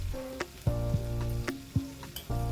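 Butter fish frying in oil on a tawa gives a continuous soft sizzle, broken by a few sharp pops and clicks, under steady background music.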